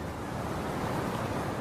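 Sea waves wash steadily against the Galapagos shore, a continuous, fairly loud broadband rush with wind, no voices and no distinct breaks.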